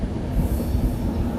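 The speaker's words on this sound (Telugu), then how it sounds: "మన ట్రైన్ శృంగవరపుకోట నుంచి అయితే బయలుదేరిపోయింది" A passenger train on the Visakhapatnam to Araku line pulls out of Srungavarapukota station with a steady, loud, low rumble of wheels and carriages from on board.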